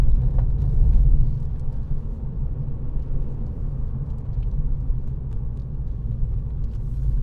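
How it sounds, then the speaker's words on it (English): A 2017 Volkswagen Scirocco 1.4 TSI hums and rumbles at a low, steady pitch while driven through a second-gear corner, heard from inside the cabin with no talking. "See what I mean about the gearing there, a second gear corner."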